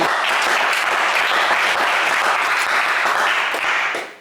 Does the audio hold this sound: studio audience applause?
yes